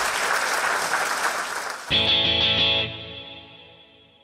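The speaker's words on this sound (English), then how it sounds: "big round of applause for Marcus Chown" An audience gives a big round of applause for a guest, dense clapping that cuts off abruptly into a ringing, distorted musical sting that fades away.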